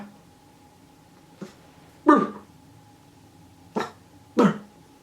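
A puppy gives four short, sharp barks indoors at irregular intervals, close by, in an otherwise quiet room with a faint steady hum.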